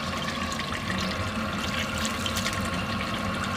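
Water running steadily into a basin to soak raw wool, a constant rushing, trickling flow heard up close from start to finish, with no voices over it.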